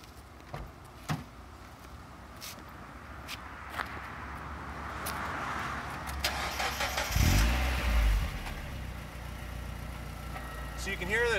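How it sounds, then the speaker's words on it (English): A Mazda Miata NB fitted with a Racing Beat dual-tip exhaust cranks and catches, then settles into a steady, low idle rumble up close, with faint handling noises at the start. "So now I'll just fire it up so you can hear what it sounds like."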